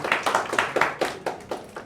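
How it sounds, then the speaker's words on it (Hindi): A group of students claps hands in a classroom, a quick run of about eight sharp, evenly spaced claps at moderate loudness, with no talking. "वेरी गुड, ताली बजाओ"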